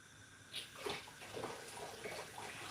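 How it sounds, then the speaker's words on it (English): Tap water running and splashing over saltfish as the salt is rinsed off, a faint, steady wash with small bursts of splashing, no talk. "So I'm going to wash off some of the salt, then put it in there."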